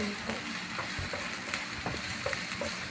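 Beef with broccoli frying in a home kitchen pan, a dense close sizzle with small stirring clicks and scrapes throughout.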